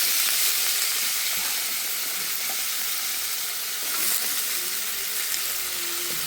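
Broad beans, soaked in salt water and rinsed, go into a hot pan and fry with a steady, fairly loud sizzle and hiss that carries on throughout, with faint stirring scrapes and no talk.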